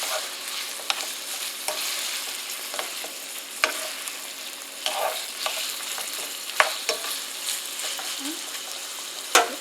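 Ground beef browning in a pan for a hash brown and beef casserole, a steady close sizzle and frying crackle with scattered sharp pops and clicks, no talking.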